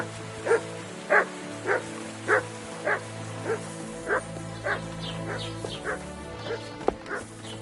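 A dog barks in a steady series of about a dozen evenly spaced woofs, fairly close and clear over a quiet room-tone background, with a sharp click near the end.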